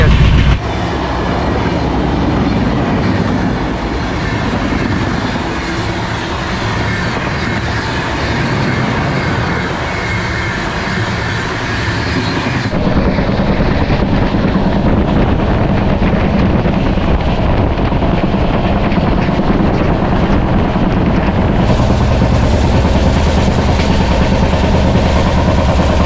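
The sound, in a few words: train running on rails, heard from sleeper coach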